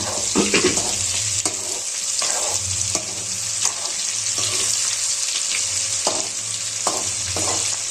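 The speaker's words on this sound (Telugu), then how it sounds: "బాగా డీప్ ఫ్రై అయ్యే విధంగా చూసుకోవాలి. కంప్లీట్గా ఇప్పుడు మీకు క్రిస్పీగా వచ్చేస్తుంది." Chicken pieces deep frying in oil until crispy, giving a continuous loud bubbling sizzle with occasional stirring knocks and splashes, close up and without talk.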